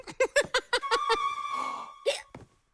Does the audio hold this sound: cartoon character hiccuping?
yes